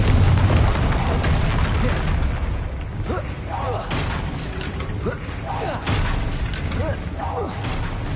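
An explosive Confringo fire spell bursts in the Hogwarts Legacy video game, a loud rumbling boom with crackling debris layered among other combat effects, with a voice heard amid the din.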